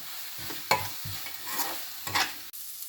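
Garam masala and turmeric being stirred into a hot pan with a spoon, making a few scraping strokes over a soft sizzle of frying spices, close and fairly quiet with no talking.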